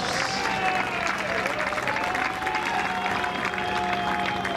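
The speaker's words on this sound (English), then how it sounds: "Huge round of applause" A cricket crowd gives a continuous burst of applause for a batsman's half-century, a dense steady wash of clapping and crowd noise that holds at an even, fairly loud level throughout.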